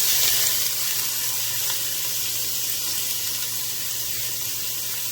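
Peppers and onions sizzle steadily in a hot pan with olive oil, a loud, continuous hiss and crackle close by and alone, with no one talking.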